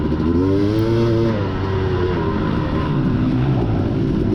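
A KTM 250 dirt bike engine during a wet cross-country race runs loud and close, its pitch rising and falling as the rider works the throttle, with no talk.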